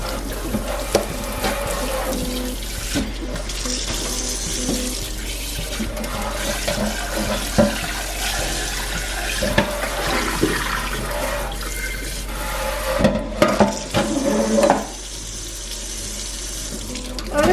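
Burnt stainless steel pot rinsed under a running tap, with continuous splashing and gushing water, occasional clanks and scrapes of the pot against the sink, and a faint voice now and then.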